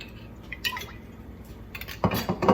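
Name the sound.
olive oil poured into a pan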